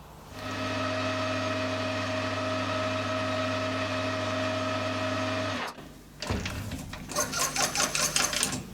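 Lathe running steadily with a strong harmonic motor whine while remachining the center on a Titan .60 glow plug model engine part, stopping near the end and followed by a brief burst of rhythmic chattering cutting sounds.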